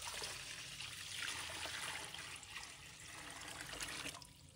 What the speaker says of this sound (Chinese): 准备一个盆，倒入清水